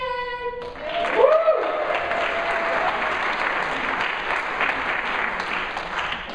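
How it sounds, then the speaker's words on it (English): Applause for Team Tradition at a USF orientation welcome, a sustained crowd clapping that swells after a brief tone and voice at the start, then holds steady and loud to the end. "let's give a huge round of applause for Team Tradition"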